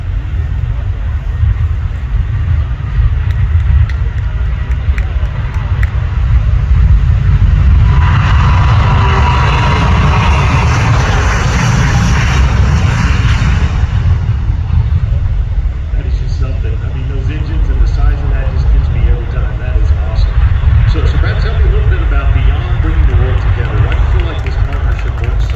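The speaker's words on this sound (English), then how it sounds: "Brad, as the airplane that departs here, let's let it go by and let the folks listen to this spectacular sound." A Delta Airbus A330-900neo in Team USA livery departs and flies by during an air show demonstration at Oshkosh EAA AirVenture, a steady loud engine roar swelling and fading over crowd and wind noise.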